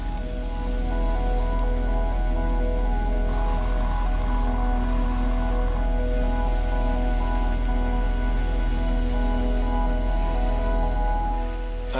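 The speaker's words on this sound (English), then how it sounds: "we're going to prime with Mr. Surfacer 1500 Grey and do some pre-shading with black." An airbrush sprays Mr. Surfacer 1500 Grey primer with a steady, close hiss that runs without a break, its upper edge briefly dipping at intervals.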